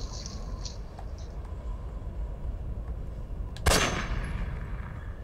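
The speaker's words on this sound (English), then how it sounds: "But if I take him out with a sniper rifle" A single sniper rifle shot in Metal Gear Solid 3: Snake Eater rings out as one sharp, loud crack with a brief decaying tail, standing out against a steady low ambient bed.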